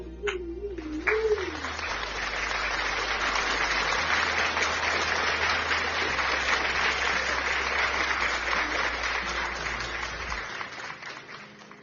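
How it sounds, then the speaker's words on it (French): Sustained applause from a church congregation, loud and steady for about ten seconds before stopping abruptly, with a brief voice and some low background tones at the start. "Acclamons pour le Seigneur Jésus-Christ de Nazareth"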